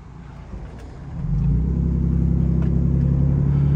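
A warmed-up Ford F-150 engine idles close by, stepping up into a louder, steady rumbling drone after a brief quieter start.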